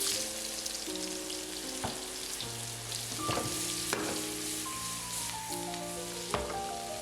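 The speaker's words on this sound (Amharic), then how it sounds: "ሽንኩርቱን የከተፍነውን ዳይስ ሽንኩርት እንጨምራለን።" Diced onions fry in clarified butter in a pan for Ethiopian beef tibs, a constant sizzle under background music.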